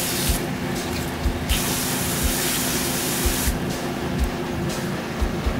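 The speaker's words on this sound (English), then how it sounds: "I'll probably spray some water in there." Water sprayed from a Roundup weed killer spray bottle for splash photography: a loud, steady, close hiss of spray that runs continuously, with faint rhythmic clicks beneath it.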